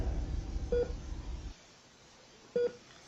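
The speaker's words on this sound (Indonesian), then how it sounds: "di minggu kedua akhirnya Mas Rudit itu telepon saya" Telephone dialing tones, two short separate beeps about two seconds apart, with a muffled low rumble under the first half that then drops away to near silence.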